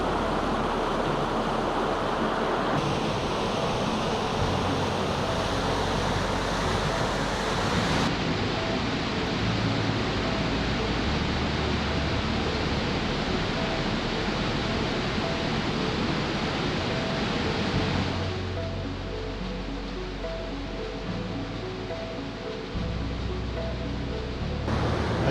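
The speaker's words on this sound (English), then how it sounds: "Just walked up through all that bouldery pocket water rapid section." Steady broadband roar of rushing water tumbling through a bouldery pocket-water rapid on a New Zealand wilderness trout stream, close and continuous with no voices, its texture shifting slightly as the listener moves upstream.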